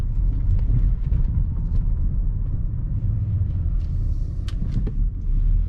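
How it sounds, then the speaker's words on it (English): A 2015 BMW 328xi Gran Turismo driving at about 20 mph over a badly broken road in Merrimack, New Hampshire, giving a loud continuous cabin rumble with scattered thumps and rattles from bumps. "let's check out the worst road in Merrimack, New Hampshire, going at about 20 miles an hour"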